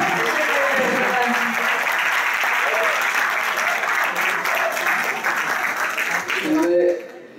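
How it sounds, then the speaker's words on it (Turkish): A room full of listeners applauding at a poetry-reading talk, sustained loud clapping for several seconds with a few voices mixed in, then cutting off abruptly near the end. "alkış."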